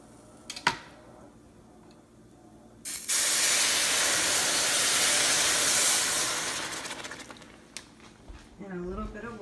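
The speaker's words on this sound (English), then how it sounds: "And I'm going to add in some chicken stock." Chicken stock poured into a hot pan with toasted pastina and garlic sets off a loud, steady hissing sizzle that lasts several seconds and then slowly fades, with a brief voice near the end.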